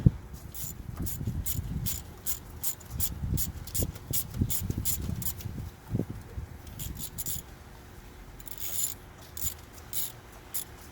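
Distributor bolts on a 1999 Honda CR-V being tightened with a ratchet, giving a long run of close, quick clicking bursts with brief pauses and a few clanks of the tool, and no talking.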